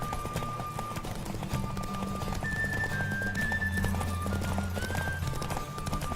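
A horse gallops in The Witcher 3 with a fast, steady clip-clop of hooves close by over a loud game soundtrack of wind and music, and a faint whinny joins in.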